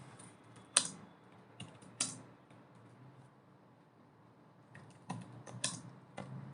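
C++ code being typed on a computer keyboard, a few sparse key clicks and a short cluster of taps, quiet and close, with long near-silent gaps between them.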